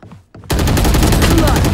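Gunfire from a shooting video game starts abruptly after a brief murmur of talk, turning into a loud, dense rapid burst of shots that continues to the end.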